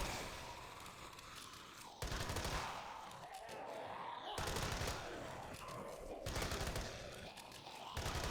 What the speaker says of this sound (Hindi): मैंने सोचा क्यों ना नॉर्मल गन से मारने का